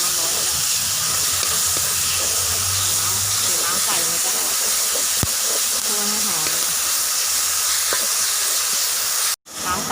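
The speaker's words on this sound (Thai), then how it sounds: "การคั่วไก่ในเผากระทะให้ร้อนค่ะแล้วค่อยใส่ลงในคั่ว" Chicken dry-frying in a hot pan gives a constant loud sizzle and hiss, with a voice talking over it and a brief clatter near the end.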